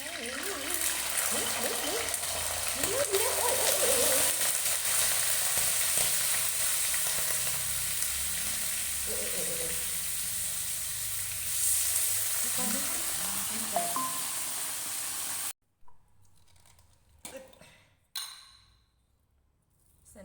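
Fish maw sizzling and crackling in hot oil, a steady loud fry with occasional clinks and stirring, ending abruptly in near silence with a few faint knocks.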